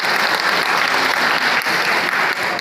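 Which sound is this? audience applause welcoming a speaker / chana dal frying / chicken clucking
audience applause welcoming a speaker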